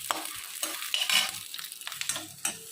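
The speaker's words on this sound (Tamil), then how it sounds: "இப்போ எண்ணெய் சூடானோடனே வெங்காயத்தை போட்டுக்கணும்." Onions frying in hot sesame oil, a steady crackling sizzle with scattered sharp pops and the scrape of a spoon stirring through the pan.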